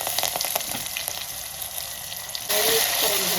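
Curry leaves tossed into hot oil already holding homemade ginger-garlic paste give a steady, close sizzle that swells into a louder, fuller crackle partway through.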